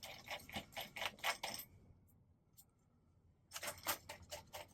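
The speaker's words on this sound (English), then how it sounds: "We take our Phillips screws, screw this back in." Phillips screws are driven back into a PlayStation 5 casing during a cleaning, giving quick bursts of close clicking and ratcheting, a short quiet pause, then another run of rapid clicks.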